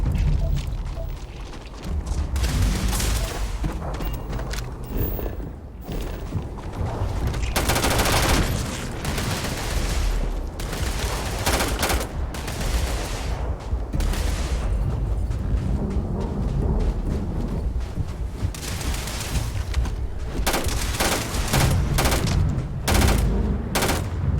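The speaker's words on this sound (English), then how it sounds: "Opening fire." Rapid gunfire crackles through a firefight in the video game Starfield, with dense overlapping bursts and booming shots continuing loudly almost without pause.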